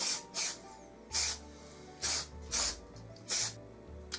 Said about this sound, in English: And then we're just going to use release agent.